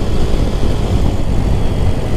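A Lifan KPX250 motorcycle engine idling: a steady, low, throbbing putter recorded up close, fairly loud and even for a couple of seconds, with no talk over it.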